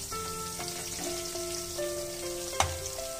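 Chicken pakora sizzles steadily in hot oil over a low flame, a continuous close crackle with a few soft clinks and one sharp knock near the end, with no talking.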